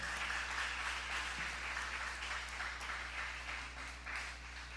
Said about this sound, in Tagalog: Pwede ba nating palakpakan ang dakilang Diyos natin